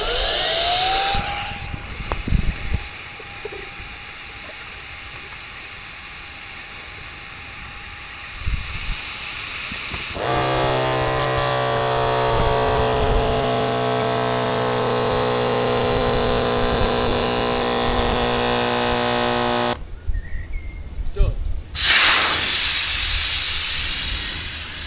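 A Shark 3 Mini rechargeable pump inflates a SUP board to 10 psi, a loud steady motor whine and rushing air hissing continuously nearby, with a shift in pitch partway and a brief pause near the end.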